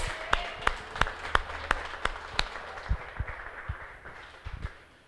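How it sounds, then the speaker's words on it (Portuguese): An audience claps in a church service, a string of sharp, evenly spaced claps that loosen into scattered, softer clapping and fade out; no talking. "Uma salva de palmas ao Espírito Santo, que é o Deus que habita em nós."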